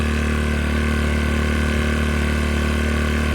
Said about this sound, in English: Once it's started, set it to warm up for a little bit.